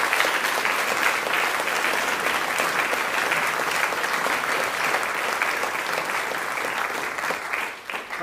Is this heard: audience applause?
yes